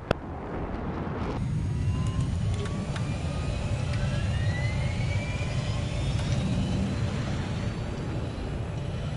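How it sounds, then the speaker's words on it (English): Jet aircraft engine in a video game, a steady whirring roar with faint rising tones as the plane flies, continuous and fairly loud with no talking. "Alright, I'm in a jet again."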